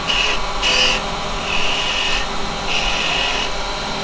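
Square wood stock being turned round on a lathe with a carbide tool, heard as a steady close whir with a scraping, hissing cut that swells in repeated passes, loud and without talking.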